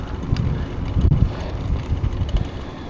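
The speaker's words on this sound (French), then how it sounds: "Qu'est-ce que c'est que tout ce vent," Wind buffets the microphone while cycling outdoors with a parrot, a continuous low rumbling gusty roar close to the mic.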